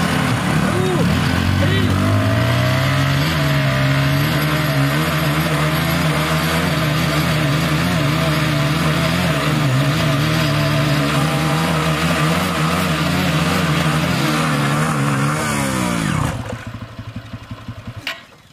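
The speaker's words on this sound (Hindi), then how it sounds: "अपनी बाइक स्टार्ट कर लो भाई।" A Hero Splendor 100cc and a TVS Apache 180cc motorcycle running together during a tug-of-war stunt, a loud, steady mechanical engine drone with clattering that holds for most of the stretch before abruptly dropping away near the end.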